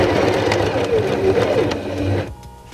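A sewing machine stitches a short run along a jacket sleeve, a close, steady mechanical whir that stops abruptly near the end.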